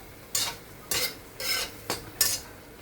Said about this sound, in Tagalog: Lagyan ko ng kaunting oyster sauce. Haluin ng kaunti.